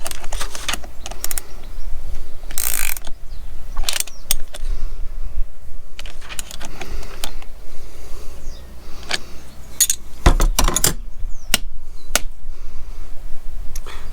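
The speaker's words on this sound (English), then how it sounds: "we'll grab a few tools now and we'll tighten it up a little bit more" Tools clicking, clinking and clattering sharply against a Lowrance triple shot transducer bracket as it is tightened, irregular close metallic taps and rattles over a steady low background hum.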